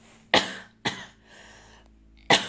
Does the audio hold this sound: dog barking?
no